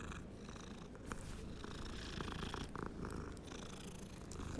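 A cat in Hogwarts Legacy purrs with a soft, steady rumble that stays close and quiet, with a few faint clicks and game sounds in the background.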